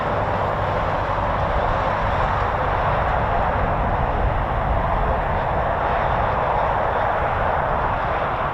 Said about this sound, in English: We may have an Embraer Xingu coming into land from the French Air Force